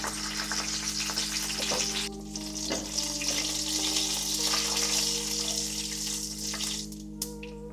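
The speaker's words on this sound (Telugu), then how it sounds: "ఒక 6 ఎండుమిరపకాయలు తుంపి ఇలా దోరగా వేయించుకోండి" Continuous close frying sizzle of six torn dried red chillies in hot oil for a tomato coriander pickle, with occasional stirring scrapes, over a steady low hum.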